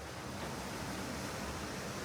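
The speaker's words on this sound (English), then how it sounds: "the sound, listening to the waves" Ocean waves wash below a cruise ship balcony off Brisbane, Australia, a steady soft hiss of surf and breeze with no distinct breaks, faint and continuous.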